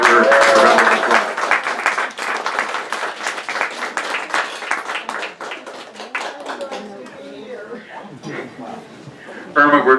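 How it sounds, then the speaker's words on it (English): An audience gives a round of applause for a 99-year-old woman, loud, close clapping that carries on and gradually thins, with a voice picking up at the end. "Could you please give her a round of applause?"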